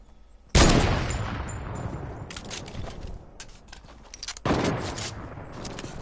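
Video-game gunfire crashes in as a sharp, loud burst with a ringing tail, followed by scattered crackling shots and then a second heavy burst a few seconds later.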